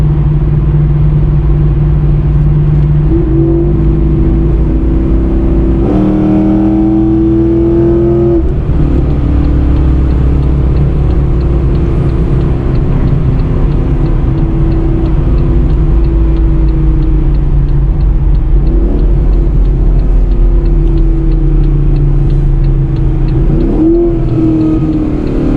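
Pontiac G8 GT with a manual transmission cruising in sixth gear, its exhaust a steady, loud low drone and rumble that holds throughout with slight shifts in pitch, as if revs rise and fall a little.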